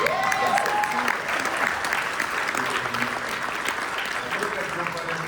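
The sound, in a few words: audience applause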